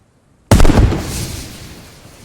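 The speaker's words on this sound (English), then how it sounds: "when you throw this grenade, wherever it hits, it will impact" White phosphorus grenade detonating in the video game Post Scriptum, a single loud, sharp blast after a moment of silence, trailing off into a long rumbling decay.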